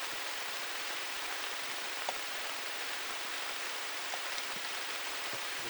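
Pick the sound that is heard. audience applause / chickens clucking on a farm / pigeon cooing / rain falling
rain falling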